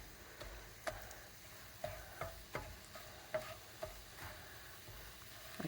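Spinach and eggs frying in a pan, a quiet steady sizzle broken by light clicks and taps of a utensil stirring and turning the food.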